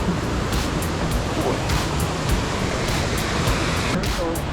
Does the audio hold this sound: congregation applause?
no